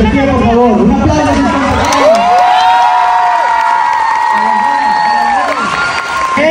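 A large, loud crowd of young people at an FSY youth event cheers and applauds continuously, with whoops and shouting throughout and a sustained tonal sound running underneath.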